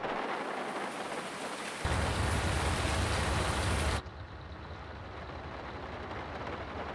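Steady rain in the Farming Simulator 19 game on the Riverview map, a dense broadband hiss that swells louder for a couple of seconds before settling back to a softer, even patter.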